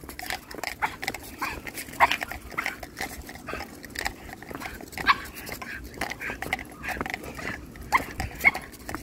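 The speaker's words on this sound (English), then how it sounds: "Little temperamental type of dogs here." Several Patterdale terriers yip, whimper and grumble in short irregular bursts, fairly close, with brief human voices mixed in.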